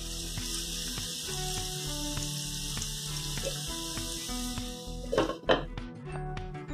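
Vegetables for Mumbai-style pav bhaji fry in a pan with a continuous close sizzle, layered under steady tonal background music, with a few clinks and rustles near the end.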